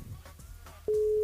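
A low hum and faint room noise, then a steady electronic phone ringing tone from a call to a mobile phone comes in loudly and holds without a break.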